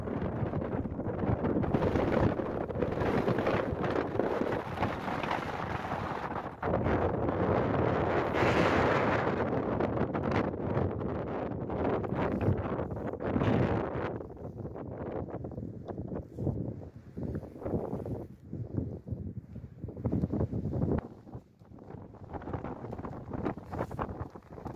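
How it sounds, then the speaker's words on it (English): Strong wind on an open hilltop in Northumberland buffets the microphone in heavy, roaring gusts that rise and fall continuously, with no other sounds standing out. "I'm getting off the hill, it's super windy."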